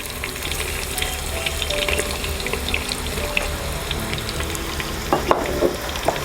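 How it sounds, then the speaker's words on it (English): Onions frying over a low flame in a pan while preparing ghee rice, a steady soft crackling sizzle with some splashy water-like hiss and a brief clatter near the end. "Just add the onions to it."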